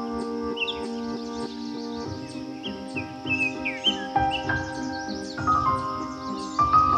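Birds sing in spring in southern Finland near the Baltic Sea, with bright chirps and trills layered over a steady sustained musical drone throughout.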